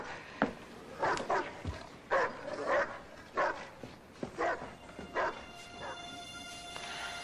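Repeated sharp barks and yips from a dog, about eight bursts spaced unevenly over several seconds, close and clear, followed by a faint high electronic tone near the end.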